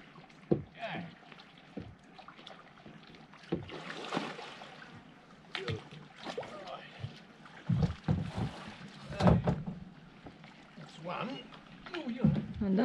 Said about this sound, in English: Howie and Bob paddling out in one canoe.